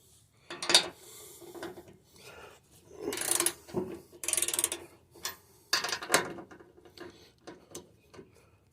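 Metal tools ratchet and clatter while bolts are loosened on an Ariens Deluxe 24 snow blower, a string of irregular clicks, scrapes and clanks close by, with bursts of rattling between quieter pauses.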